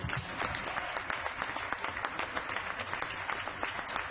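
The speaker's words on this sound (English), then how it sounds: "if we can give a round of applause for our 12 winners" A crowd claps for twelve elementary school calendar contest winners at a council meeting, the applause dense and even, a fairly faint, sustained patter of many hands with no speech over it.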